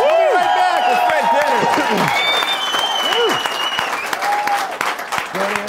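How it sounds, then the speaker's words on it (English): A studio audience at a television interview claps in a loud, dense burst of applause that thins somewhat toward the end, with people talking and calling out over it. "Let's clap now."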